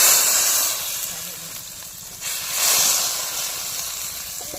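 A hot spice tempering is poured into bitter pachan, setting off a loud hissing, steamy sizzle that eases off, then surges again and settles into a continuous hiss.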